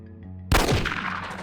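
A Glock 18 pistol firing a burst in Jagged Alliance 2, a sudden loud crack with fast overlapping shots and a ringing tail, following a quiet tonal hum.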